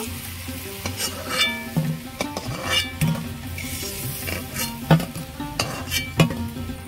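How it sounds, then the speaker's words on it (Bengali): Jackfruit seeds fry in hot oil in a pan, giving a continuous sizzle broken by frequent clinks and scrapes of a utensil stirring and lifting them out. "বাকিগুলো ভেজে নেব।"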